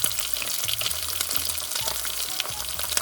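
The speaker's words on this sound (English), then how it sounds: "I think I'll try and insert a clip of when I was frying these." Fish sizzling and crackling in hot frying oil, a steady dense spatter running without a break and no voices.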